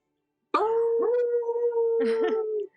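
A single voice imitates a wolf howl, a sustained rising and wavering wail lasting about two seconds with a short yipping break near the end, heard fairly close against silence.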